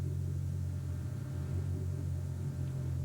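Elephants on the Mombasa Road imitating trucks, producing a deep, steady engine-like rumble with a low droning hum that holds evenly throughout, sounding like a distant idling truck.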